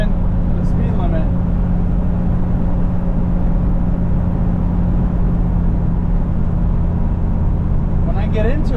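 A junkyard-bound Bullnose Ford F150 cruises at a steady road speed, its engine and road noise a continuous low drone from the cab throughout, with a faint voice or two at the start and end.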